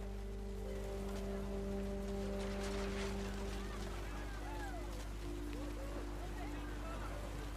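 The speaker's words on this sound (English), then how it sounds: "The rain came down in buckets then" Heavy rain pours steadily in the game What Remains of Edith Finch, a soft continuous wash beneath sustained low musical tones, with faint chirping sounds drifting in later.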